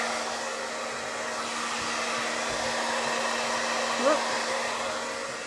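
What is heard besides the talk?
blow dryer drying paint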